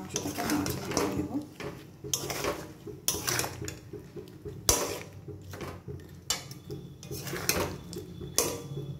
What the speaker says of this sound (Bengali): এই পেস্টটার মধ্যে আমি এটাই মাংসটাকে নাড়াচাড়া করে দেব।